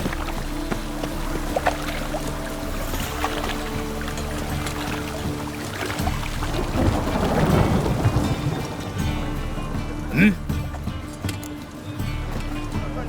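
Rain in The Witcher 3 on Xbox Series X, a steady broad hiss of falling rain with low rumbling thunder swelling midway and a brief sharp accent near the end, no talk.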